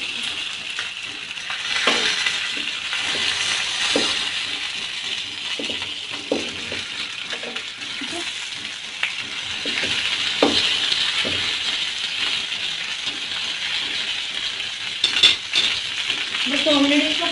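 Tandoori chicken pieces frying in an oiled pan give a steady, moderate sizzle throughout, with occasional soft clinks of utensils and faint voices in the background.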